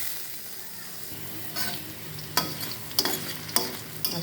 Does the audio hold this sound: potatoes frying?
yes